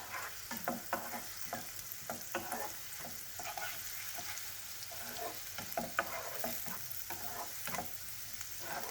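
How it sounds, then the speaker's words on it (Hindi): Onion sautéing in butter in a pan for a baked vegetable au gratin, with a soft steady sizzle broken by a string of sharp stirring clicks and scrapes, close by and fairly quiet, with no voices. "इस अनियन को अब हम लोग बटर के साथ सौते करेंगे"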